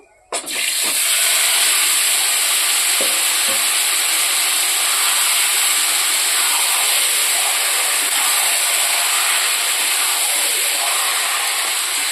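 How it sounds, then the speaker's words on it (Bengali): Meat tipped into a hot pan sets off a loud, steady sizzle that begins with a sharp onset and holds as a continuous hiss, with a few faint clinks early on. "মাংসটা ঢেলে দেবো।"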